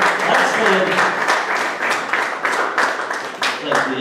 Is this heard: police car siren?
no